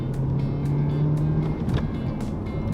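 A car engine hums steadily from inside while driving, a low tone that rises then drops off as gears shift, with faint intermittent clicks and rattles over the drone.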